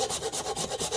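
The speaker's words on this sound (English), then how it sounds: "just grate about a half of a little nutmeg ball" A small whole nutmeg grated fresh by hand, giving quick rhythmic rasping strokes, about ten scrapes in a second, close and fairly quiet with no talking.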